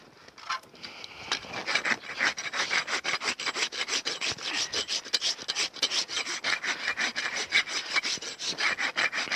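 A hoof knife or rasp trims the rock-hard sole of a horse's hoof during a rebalancing trim, giving steady rapid scraping and rasping strokes, close and fairly quiet, with no talking.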